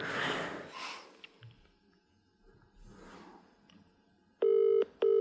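A telephone is being dialed to call someone, faint rustling at first, then two loud, steady electronic tones near the end.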